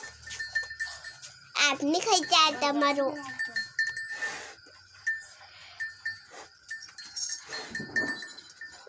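A goat bleats in a wavering cry at a farmer's home during a Diwali puja. A few shorter calls follow amid people talking nearby.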